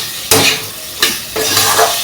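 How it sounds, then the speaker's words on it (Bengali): Potatoes frying in a pan, a steady sizzle broken by loud clattering scrapes of a spatula against the pan, close by and with no voices. "এখানে আলুটাকে ভেজে নেব।"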